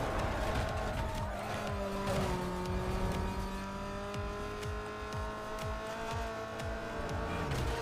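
Racing cars in Need for Speed Most Wanted, one of them a Koenigsegg, brake hard on a city street with a taxi ahead, engines droning and shifting under long tire squeals and skids.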